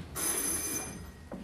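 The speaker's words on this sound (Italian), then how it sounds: "Telefono." A telephone rings on stage during an amateur theatre comedy: one sustained, bright electric bell ring that cuts off, followed by the start of another, heard clearly without talk.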